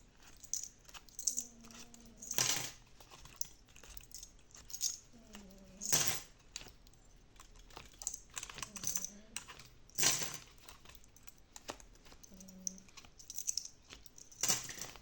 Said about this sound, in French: On va enlever toutes nos petites pinces.